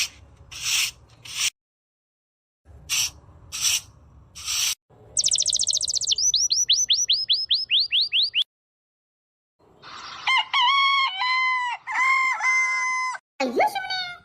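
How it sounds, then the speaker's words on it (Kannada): Village chickens and a rooster call in bursts. A long cock-a-doodle-doo crows nearby, separated by silent gaps and a few rubbing noises. "ಯಾರು ಕೋಳಿನ ಹೊರಗೆ ಬಿಟ್ರು?"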